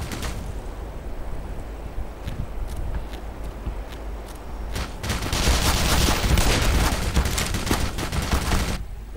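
Scattered single gunshots from the first-person shooter Black Mesa crack at intervals, then a denser burst of rapid fire swells midway and continues loudly for several seconds before stopping abruptly.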